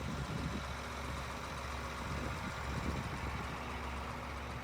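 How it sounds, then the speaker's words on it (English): A tractor engine runs steadily at a distance beside plowed farm ground, a constant low rumble with no clear rhythm or change over the few seconds. "That's a tractor."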